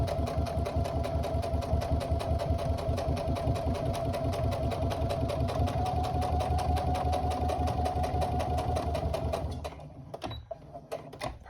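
A sewing machine runs steadily and fast, top-stitching a tote bag seam with a rapid, even mechanical patter close by, then slows and stops near the end, leaving a few clicks and handling sounds.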